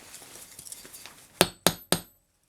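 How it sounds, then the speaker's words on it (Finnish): Three sharp metallic taps of a hammer on a chisel ring out in quick succession after some softer scraping and handling noises, each strike decaying briefly, while a Honda Monkey engine is being assembled. "Pari kertaa kopata vasaralla."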